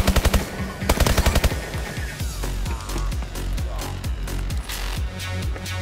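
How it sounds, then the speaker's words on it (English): Rapid automatic fire from a laser gun in Call of Duty Advanced Warfare's Exo Zombies mode, loud, dense bursts of sharp shots in quick rhythm with brief pauses, a voice faintly underneath. "It's the awesome laser gun that can kill everybody in the game."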